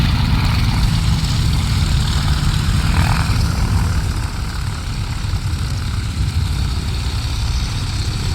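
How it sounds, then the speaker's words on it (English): Propeller airplanes at an airshow in Midland, Virginia roar steadily as they taxi toward the runway, a continuous loud engine drone with no talk over it. "Taxiing on down towards the runway there."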